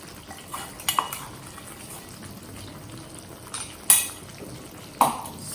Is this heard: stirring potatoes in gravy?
yes